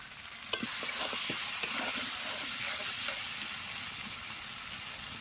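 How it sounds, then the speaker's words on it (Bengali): Spice paste frying for a Bengali chicken curry, a steady loud sizzle in a pan with a sharp scrape or knock near the start and a few more as it is stirred, no voices. "মশলার সঙ্গে ভালো করে সব কষে নিতে হবে"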